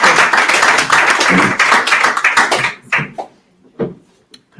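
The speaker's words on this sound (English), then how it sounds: "please, a round of applause for Victoria." An audience at a talk in a pub gives a round of applause, a dense burst of many hands clapping that fades out after about three seconds into a few scattered last claps.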